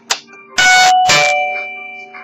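A Tenswall B15 wireless doorbell speaker box gives a short click, then two bright electronic chime strikes whose sustained ringing tones decay slowly, close and loud.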